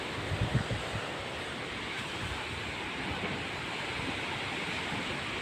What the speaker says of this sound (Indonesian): Semoga anginnya teduh